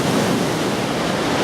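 The Bramabiau underground river rushes through a cave, a dense, loud, continuous roar of flowing water with no pauses.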